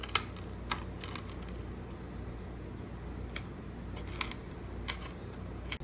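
Scissors snipping an opening in a Phat Bodies Atak RC car body for a WLtoys 144001, heard as sparse, crisp clicks and snips close by over a quiet background hum.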